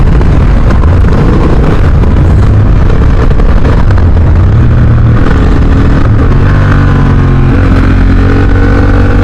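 A Honda Hornet CB 750 motorcycle engine revs and pulls hard in second gear, a loud, close, continuous roar that rises and falls in pitch as the throttle opens and the revs climb.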